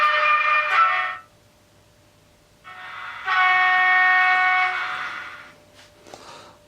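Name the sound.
Fleischmann PKP Cargo Vectron model locomotive digital sound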